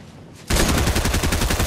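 Heavy sniper rifle gunfire in Fortnite bursts in suddenly after a brief quiet lead-in, then sustains as loud, dense, rapid repeated shots with no talking.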